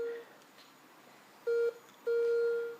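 A Garrett Ace 250 metal detector sounds through headphones as short, clean electronic beeps: one brief tone, a second after a pause, then a longer held tone, clear and close with faint hiss between.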